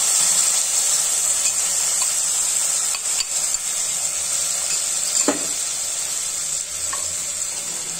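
Golden brown onions frying with spices in a pan give a steady loud sizzle and hiss throughout, with occasional soft scrapes of stirring, close and uninterrupted by talk.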